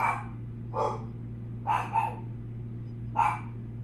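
Dogs barking indoors, a few sharp mid-pitched barks spaced irregularly, including a quick double bark, over a steady low electrical hum.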